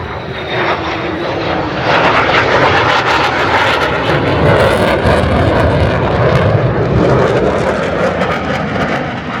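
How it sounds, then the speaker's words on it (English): Two F-15E Strike Eagle twin-engine fighters from McDonnell Douglas approach with a loud, sustained, broadband jet roar that swells steadily and fills the air for several seconds. "Approaching are two F-15E Strike Eagles, a twin-engine all-weather fighter built by McDonnell Douglas,"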